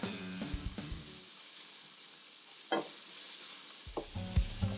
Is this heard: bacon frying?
yes